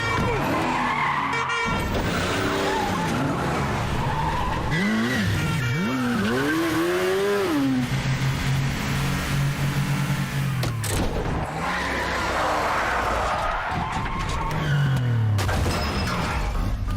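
Tires skid and squeal in a movie car chase from Mission Impossible Fallout, rising and sliding pitch sweeps over a loud engine roar and gritty road noise, with dramatic score underneath and a closer screech near the end.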